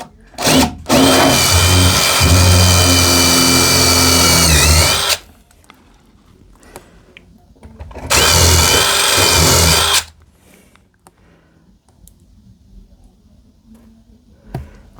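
A power drill whines loudly and steadily drilling holes into a wall, in two long bursts, the first about four seconds and the second two, separated by quiet pauses.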